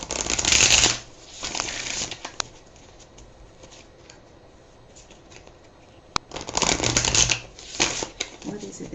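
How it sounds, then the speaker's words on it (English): Cards are riffled in quick, crisp bursts, one at the start and another near the end, with a quiet stretch between. "we will shuffle the deck and get started"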